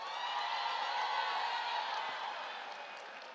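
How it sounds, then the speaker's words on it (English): Audience applause at a university graduation ceremony, a dense, even wash of clapping from a large crowd in a hall, fairly soft and distant, sustained and slowly fading. "Colleagues, can you give a round of applause?"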